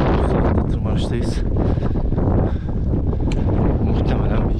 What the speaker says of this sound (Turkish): Rüzgar şiddetini artırdı.